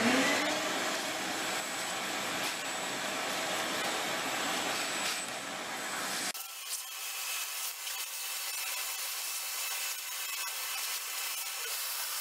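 A vacuum roars loudly and steadily as it clears debris from a busted log splitter that was crushed under a barn. About halfway through, the airflow shifts to a thinner, hissing blow.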